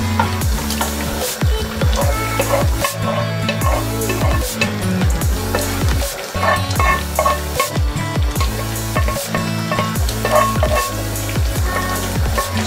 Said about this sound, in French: We're going to mix it with the tomato sauce.